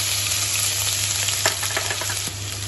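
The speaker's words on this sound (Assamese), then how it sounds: "এতিয়া মই ইয়াত আদা নহৰুখিনি দি দিম।" Ginger and garlic hit hot oil in a pan after potatoes and pointed gourd were fried out, giving a steady close sizzle with a few sharper crackles and stirring scrapes partway through.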